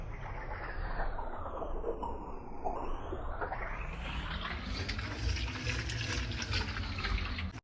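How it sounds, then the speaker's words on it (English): Already boiled macaroni being drained, a steady rushing pour of water that swells and fades, heard close and continuous. "Drain that already boiled macaroni."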